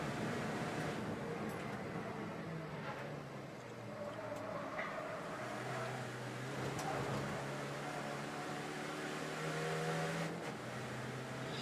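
A Caterham race car lapping the Donington Park circuit, its engine note rising and falling at a distance against steady broadband track noise, with a faint voice in the background.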